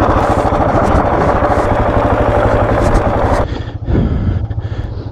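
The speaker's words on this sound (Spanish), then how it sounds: "Enciende la moto." A KTM 690 Enduro R motorcycle engine starts and revs loudly up close, with a rough, throbbing drone that briefly drops and then picks back up.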